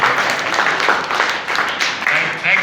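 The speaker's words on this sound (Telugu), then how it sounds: "క్లాప్స్ అవ్వాలి. కొట్టారా?" Students in a classroom clap together in a steady, sustained round of applause. It sounds fairly close and continues without a break for a few seconds.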